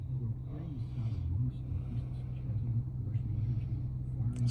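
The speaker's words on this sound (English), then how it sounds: "The sport exhaust, it's a great sound to it." A 2023 Porsche Cayenne GTS with sport exhaust holds a steady, deep rumble, close and even for several seconds, with a slight swell near the middle.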